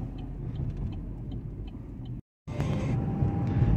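A car rumbles along at a steady engine drone, cuts out briefly, then returns louder with a rising, brighter road roar as it pulls back onto the road.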